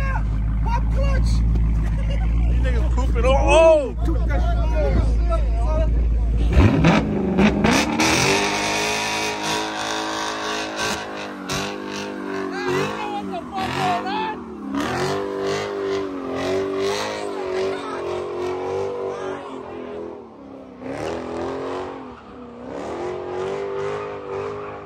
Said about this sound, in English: Burn out! Pop clutch!